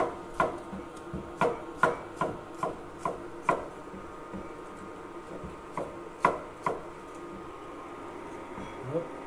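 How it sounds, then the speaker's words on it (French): A knife finely chopping shallot on a board, a brisk run of crisp close taps in uneven clusters, then a pause before a few more strokes. "On va tailler échalote très finement."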